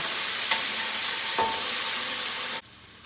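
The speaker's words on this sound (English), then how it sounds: "We're gonna deglaze it before anything gets too dark" A pan with seared salmon drippings hisses steadily as about 1.5 tablespoons of white wine goes in to deglaze, with brief stirring scrapes, then the sizzle drops abruptly to a quiet simmer near the end.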